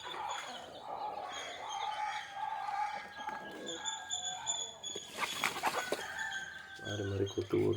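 Free-range country chickens cluck and call near at hand at a morning feeding of bran, with scratchy movement and a voice talking now and then in the background.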